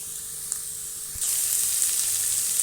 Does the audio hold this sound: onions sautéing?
yes